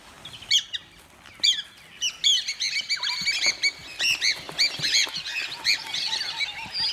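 Small social birds chirp, tweet and squawk in savanna grassland where rhinos graze, with many overlapping calls in quick, busy bursts, fairly close and fairly loud, and no voices.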